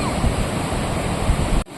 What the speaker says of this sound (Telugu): అసలు వాటర్ ఫ్లోట్ మామూలు లేదుగా అరవింద్